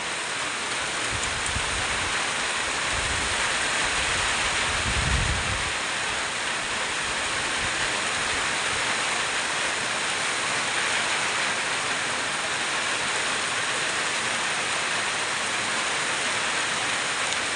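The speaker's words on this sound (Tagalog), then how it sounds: "masyadong malakas ang ulan" Heavy rain pours down steadily in a dense, loud hiss that continues unbroken throughout, with a few low rumbles near the start.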